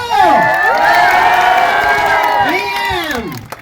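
A live comedy crowd cheers, whoops and shouts, with children's voices among them, over scattered applause. The sound is loud, close and continuous, then fades near the end.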